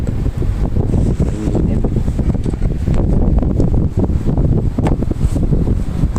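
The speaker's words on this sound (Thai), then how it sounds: "โอ้ยลม" Wind blows hard into the microphone outdoors, a loud, continuous buffeting roar with gusty bursts throughout.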